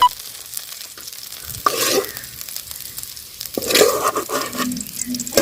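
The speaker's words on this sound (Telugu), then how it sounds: "ఇంకా పచ్చిమిరపకాయలు, ఉల్లిగడ్డలు, ఎల్లిపాయలు కూడా నూనెలో అయితే వేగవండి." Green chillies, onions and garlic fry in oil in a pan for peanut chutney, giving a steady soft sizzle broken by two louder bursts of stirring and scraping.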